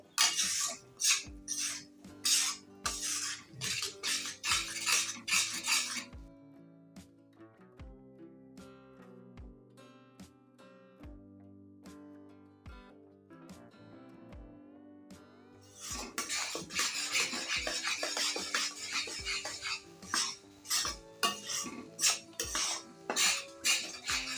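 A metal spoon scrapes and taps rhythmically against a pan as semolina roasts in ghee over low heat, with busy clinking strokes at the start and end and a quieter stretch in between.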